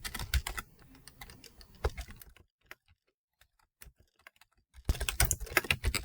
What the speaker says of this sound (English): And again, it starts me off in A1, and I'll type in the title.